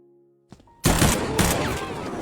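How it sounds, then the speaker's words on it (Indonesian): Gunfire erupts in a tense film scene: after a quiet low hum and a soft knock, a sudden loud blast hits, followed by a second crack and a long, noisy echoing tail. "Johan mengeluarkan senjata dan menembak pria itu di depan semua orang"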